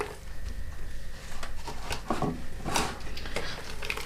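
Fermented cherries for homemade cherry wine are stirred in a pot. Steady wet swishing runs throughout, with scattered light knocks and clinks of the utensil against the container.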